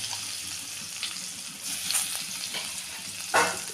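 Chopped ginger, garlic and green chili fry in oil and melted butter, a soft, steady sizzle with a few brief louder bursts and a sharp crackle near the end as the pieces hit the pan.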